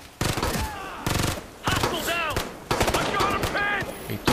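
Gunfire in Tom Clancy's Ghost Recon: repeated loud bursts of automatic fire come in separate blocks, with ringing metallic tones between them and some voice underneath.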